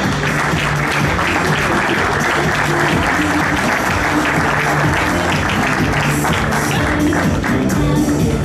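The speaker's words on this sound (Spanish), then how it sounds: "¡Fuerte el aplauso!" Applause from an audience at a Fundación DIARC awards event at the Sheraton Hotel in Buenos Aires, dense steady clapping throughout, loud and close, with a few voices mixed in.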